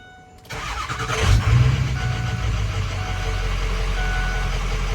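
A 6.0 diesel truck engine cranks and catches, then settles into a steady close rumbling idle that runs on evenly with faint intermittent beeps.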